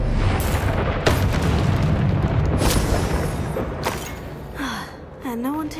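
A Confringo spell is cast in Hogwarts Legacy and blasts apart in a loud, booming burst, followed by rumbling debris and several sharp cracks. Voices speak and cry out over the combat.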